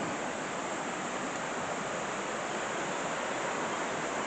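Aira Force waterfall in Cumbria's Lake District pours as a loud, constant, broadband rush of falling water, steady and unbroken throughout with no voices.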